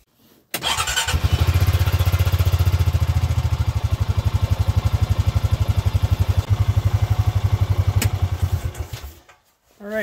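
A Honda Pioneer 500 utility vehicle engine cranks and starts, then runs with a steady, rapid chugging idle for several seconds before cutting off abruptly.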